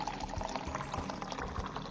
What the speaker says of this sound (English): fill the remaining flask with distilled water exactly to a 1 liter mark